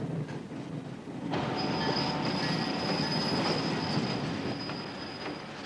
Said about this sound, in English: In the afternoon, the train crosses the Missouri River.